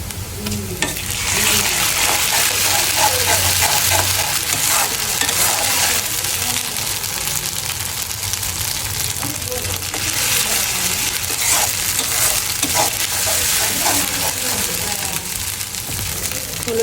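Blended ginger-garlic paste fries with cock chicken and onions in a pan, giving a continuous loud sizzle with steady stirring and scraping throughout.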